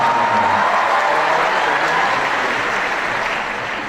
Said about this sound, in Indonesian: Tepuk tangan buat semangat untuk tercinta.